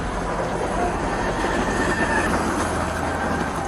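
A train rumbles past at a rail crossing just after striking a police patrol car, a loud continuous roar of wheels and rail noise close by, with faint squealing.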